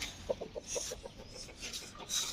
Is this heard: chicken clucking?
yes